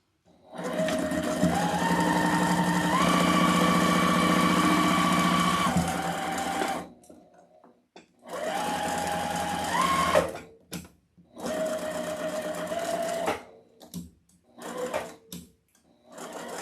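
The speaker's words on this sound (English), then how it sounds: "now we just sew around these" A sewing machine stitches around fabric pieces for a leprechaun-with-top-hat wreath attachment. It runs in a steady whirring stretch of about six seconds, then in several shorter bursts separated by brief pauses.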